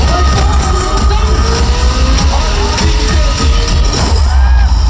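A large crowd at Bhojpuri star Pawan Singh's stage entry in Gorakhpur roars, cheers and applauds in a dense, loud, continuous wash of noise, with scattered yells and whoops rising above it.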